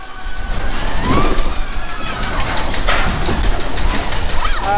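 Primeval Whirl, a small spinning coaster, rumbles and rattles loudly and steadily throughout, with brief squealing wheel noise over the continuous ride roar.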